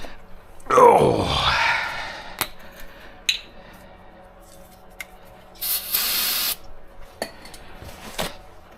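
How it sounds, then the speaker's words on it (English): Brake cleaner sprays from an aerosol can onto the front axle of a 1987 Chevrolet R20 pickup, giving one loud, close hiss of just under a second mid-clip. A groaning voice and a few metallic clanks come earlier. "grab a can of brake clean here"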